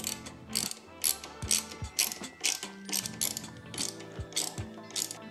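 A T45 ratchet tightens the bolt of a Harley-Davidson passenger peg with a lock nut, giving close, rhythmic clicking pawl strokes in repeated bursts of roughly ten quick pulls.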